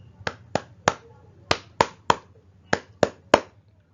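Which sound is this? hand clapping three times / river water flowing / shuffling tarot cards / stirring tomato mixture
hand clapping three times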